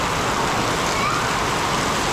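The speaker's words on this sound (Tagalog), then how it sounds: "Bumuhos pa yung malakas na ulan guys. Grabe lakas ng ulan." Dense, steady hiss of heavy rain pouring down, continuous and fairly close, with no voices.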